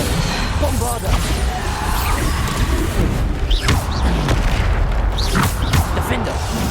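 Bombarda blasting spells explode during combat in Hogwarts Legacy, with loud repeated booms, crashes and whooshes packed close together. Shouting voices run over the blasts.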